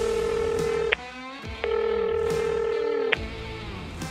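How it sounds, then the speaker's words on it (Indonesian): Telephone dialing while calling fellow bikers: steady loud tones broken by brief gaps, with a few sharp clicks between them, close and alone. "gue langsung telepon sama mereka"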